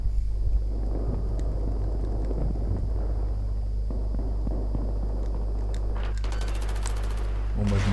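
Battlefield 3 battle sounds: bursts of distant gunfire and rumbling explosions crackle over a deep, constant low hum, with a sharper rapid burst near the end.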